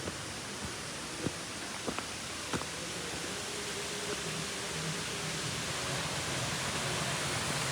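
The Zomorrod (Zamrud) waterfall in Gilan roars as a steady broadband wash of falling water, dense and continuous, with a few faint knocks early on and no voices.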